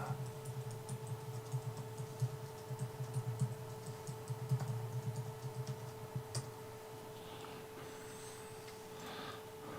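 Typing on a computer keyboard: a quiet, uneven patter of light key clicks over a low, constant electrical hum, with the keystrokes thinning out toward the end and no voices.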